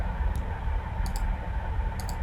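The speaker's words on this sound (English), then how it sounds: "I think if I control right click" Sharp computer mouse clicks come in a few small clusters, set against a constant background hum from a desk setup running Blender.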